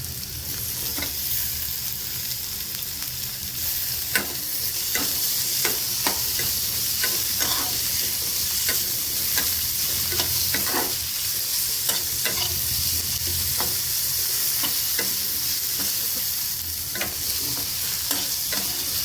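Onions and tomatoes frying and being stirred in a pan for vegetable Maggi, a steady close sizzle with frequent sharp scrapes and clicks of the spoon against the pan throughout.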